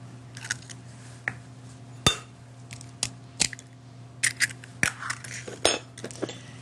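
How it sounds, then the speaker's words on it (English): A fork beats two eggs in a dish, producing a series of irregular sharp clinks and taps of metal against the bowl, close and fairly quiet, over a low steady hum. "Just gently beat with a fork 2 eggs"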